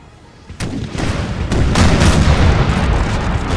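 Booming artillery and crackling musket volleys from a Napoleonic-era battle in the strategy game Napoleon: Total War, loud and dense, with a sharp onset of shots followed by sustained overlapping gunfire.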